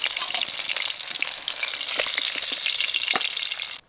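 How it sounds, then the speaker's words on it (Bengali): Koi fish fry in hot oil, giving a dense, crackling sizzle with sharp popping spatters, close and continuous until it cuts off abruptly at the end. "এই মাছগুলোও ভেজে নিয়েছি, তুলে নেব।"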